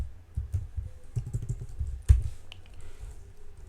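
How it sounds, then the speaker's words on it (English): Keys tapped on a computer keyboard while entering a Linux terminal command, a quick run of light clicks in short bursts with one sharper, louder keystroke near the middle, close and alone. "So let me just type it again"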